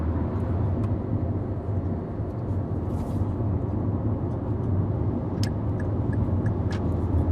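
A car cruising on France's N145 national road, upgraded to expressway standard: continuous, even road and engine roar from inside the vehicle, with a few faint ticks and clicks over the steady drone.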